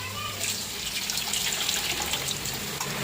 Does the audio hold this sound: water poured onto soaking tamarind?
yes